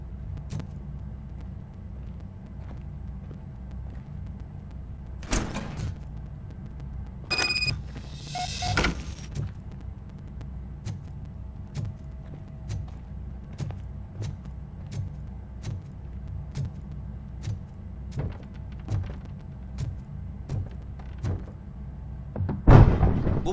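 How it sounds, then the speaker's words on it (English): A door opens in the RoboCop: Rogue City video game with a few sharp mechanical clunks and a brief whir, set over a steady low ambient hum. "Now let me get that door open for you."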